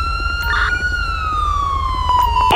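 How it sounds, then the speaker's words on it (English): An ambulance siren in GTA 5 wails loudly and close, its steady high tone gliding slowly downward, with short bleeps breaking in over a low road rumble. "Ambulance. There we go."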